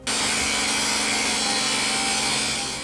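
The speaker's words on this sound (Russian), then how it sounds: "Болгаркой по трубе." Angle grinder cutting through a gas pipe, a continuous harsh, loud abrasive whine and grating that holds steady for the whole stretch and tapers slightly at the end.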